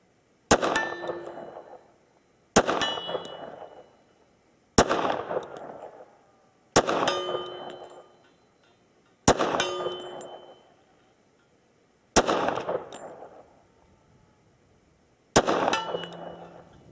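A Wilson Combat 1911 in .45 ACP fires seven sharp, evenly spaced shots from a 10-round Chip McCormick Power Mag at steel silhouettes 7 yards away, each crack followed by a ringing metallic clang that fades before the next.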